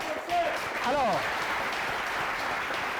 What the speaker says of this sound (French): Je vais demander beaucoup d'applaudissements pour vous.